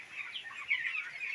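A flock of 18-day-old farm chickens cheeps and clucks nearby, a busy cluster of high, overlapping calls over a brief moment.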